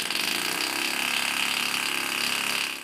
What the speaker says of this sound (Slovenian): zagotovo lahko slišite razliko v zmogljivosti, ko motorja delujeta zaporedoma